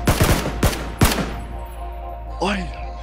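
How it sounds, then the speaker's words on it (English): A rapid burst of close gunshots in PlayerUnknown's Battlegrounds cracks out in quick succession, followed by another single shot, then a short spoken exclamation. "but there's a gunshot to your right."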